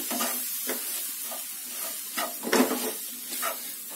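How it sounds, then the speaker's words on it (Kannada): Spice powder stirred into ghee and oil over a low flame, soft rhythmic spoon strokes through a gentle continuous sizzle, close by, with no voices. "ಪುಡಿ ಹಾಕೊಂಡು ಸ್ಟವ್ನ ಸಿಮ್ ಮಾಡಿಕೊಂಡು ಲೋ ಫ್ಲೇಮ್ನಲ್ಲಿ ಸ್ವಲ್ಪ ಮಿಕ್ಸ್ ಮಾಡಿ."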